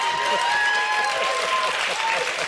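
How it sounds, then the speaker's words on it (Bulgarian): Clapping from a studio audience on a Bulgarian entertainment show, dense steady applause of many hands, loud and sustained, with faint voices mixed underneath. "Я пляскам аз."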